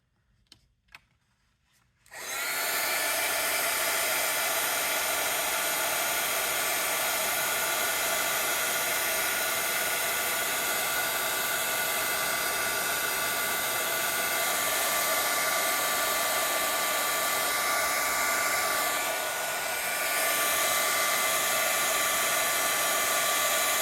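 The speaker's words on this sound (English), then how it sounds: "Okay, heat gun." A heat gun melting embossing powder, starting after a couple of seconds of near silence with a few small clicks, then blowing as a loud, steady whine and hiss to the end.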